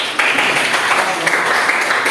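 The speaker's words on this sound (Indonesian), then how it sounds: "terima kasih tepuk tangan untuk kelompok" Students in a classroom applaud a presenting group with a short burst of dense clapping that starts abruptly and holds steady, close and fairly loud.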